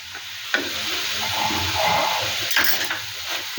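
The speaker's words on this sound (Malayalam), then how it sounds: "എല്ലാവരും കൂടെ ഒരുമിച്ചൊന്ന് വഴരട്ടെ." Green chilli and ginger sauté in a hot pan for a Kerala dried-prawn theeyal, making a continuous close sizzle broken by a few sharp clinks of a spoon stirring against the pan.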